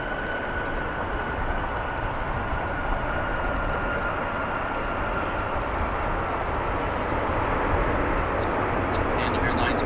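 Japan Airlines Boeing 777 at O'Hare International Airport, a steady roaring jet engine noise that grows a little louder toward the end, with talk over it.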